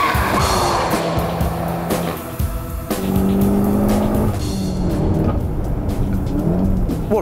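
A Volkswagen Golf GTI Clubsport S drives at speed on the Nürburgring Nordschleife, its engine revving hard through rising and falling gear changes, loud and close from inside the car, with tyre noise and no talk.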